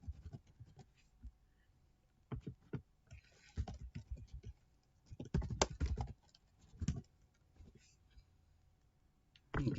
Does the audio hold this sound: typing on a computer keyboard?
yes